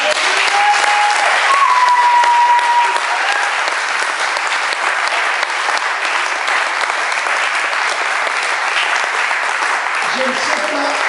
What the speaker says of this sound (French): Est-ce qu'on peut donner une forme d'acclamation à Dieu?